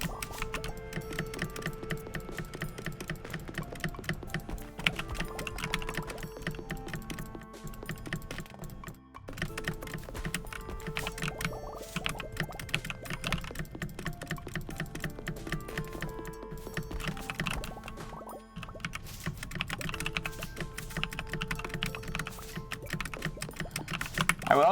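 Steady clicky typing on a tall computer keyboard, rapid and continuous keystrokes close by for the whole stretch with only brief pauses, no talking.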